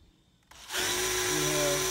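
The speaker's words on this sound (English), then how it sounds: "let's go ahead and start the drill up" A reversible power drill spins the oil pump drive shaft counterclockwise on a rebuilt Oldsmobile 350 Rocket V8 to prime it. It starts after a quiet moment, then whirs steadily and loudly at constant speed.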